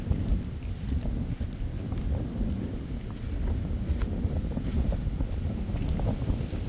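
Strong, cool wind buffets the microphone in a constant low roar and rumble, outdoors during fishing and unbroken throughout.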